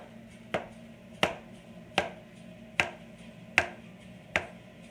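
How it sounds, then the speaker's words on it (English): A knife coarsely chops olives on a cutting board, six sharp, evenly spaced knocks about every three-quarters of a second, close and clear over a quiet background. "I usually do a pretty coarse chop with the olives"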